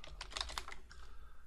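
A short run of rapid clicks from a computer keyboard being typed on nearby, then a softer trailing pair of taps, quiet and with no speech.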